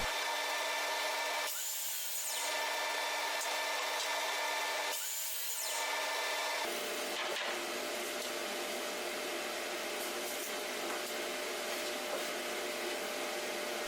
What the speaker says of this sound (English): my most recent upgrade was this Gen 2 Delta Cruiser miter saw